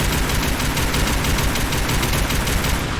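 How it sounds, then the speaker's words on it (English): The Peppermill Crank Gun mod in Fallout 4 fires in VATS, a dense, continuous rattle of rapid-fire shots that stays loud and unbroken throughout. "We're shooting a lot of shots in VATS"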